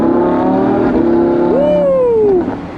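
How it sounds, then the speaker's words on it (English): A sports car under race conditions gives a loud, sustained exhaust drone close by, with a rising pitch sweep as the gears shift before the sound fades slightly. "that exhaust note sounded incredible on the downshifts"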